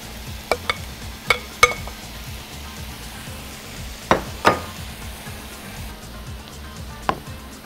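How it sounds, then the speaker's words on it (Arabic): Cooked pasta being stirred with pesto sauce and shrimp in a pan, with a low steady sizzle broken by a few sharp utensil scrapes and clinks against the metal. "وهنزل كمان عليها صوص الباستو واقلب"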